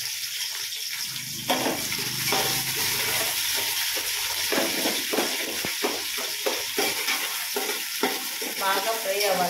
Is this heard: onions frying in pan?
yes